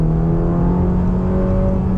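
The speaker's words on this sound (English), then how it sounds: "This is a car that should purr with a satisfying V8 burble going on" A Ferrari Roma's V8 engine holds a loud, steady, droning rev, heard up close with no talk over it.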